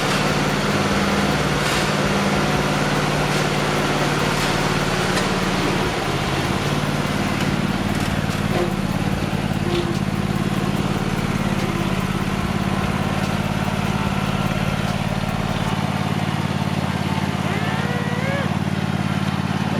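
Engine of a Honda F20B-swapped car runs steadily at a loud, constant level, a low continuous rumble under light throttle that holds for the whole stretch, with faint sounds overhead and no clear rev rise.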